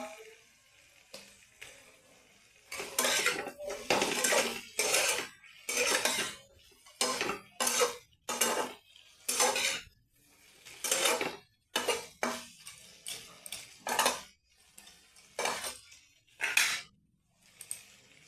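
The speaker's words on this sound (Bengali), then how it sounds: "শিঙা মরিচ দিয়ে একটু নাড়বো" A spatula repeatedly scrapes and clatters against a pan while capsicum (shimla mirch) is stirred with a little salt, in bursts of stirring separated by short pauses, close and fairly loud, with no talking.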